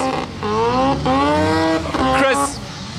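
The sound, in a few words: loud rotary engines running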